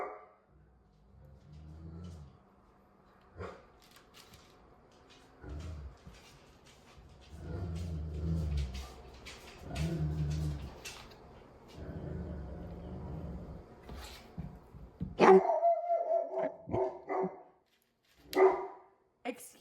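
A dog barks in short sharp bursts toward the end, a few loud yips near the microphone, after a long stretch of quiet kitchen sounds and muffled activity.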